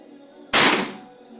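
One sharp, close shot bursts out and fades quickly after a quiet stretch.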